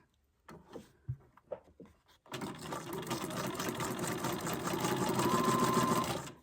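A sewing machine runs zigzag stitches on paper, first a few short isolated clicks and thumps, then a steady, loud mechanical whirr for about four seconds.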